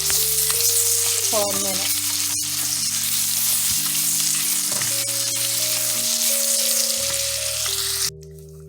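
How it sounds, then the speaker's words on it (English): Chopped onion and minced garlic sauté in a hot pan while meatball sub filling is made, giving a steady close sizzle throughout under background music, with a few brief spoken words. "we're going to add 1/4 cup of chopped onion and our 2 minced garlic cloves, and we're just going to saute that"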